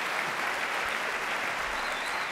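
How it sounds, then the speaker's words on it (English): An audience at a 2023 Percy Julian graduation ceremony claps steadily, a dense, continuous wash of many hands at even volume for a couple of seconds. "you can clap for that, that's cool"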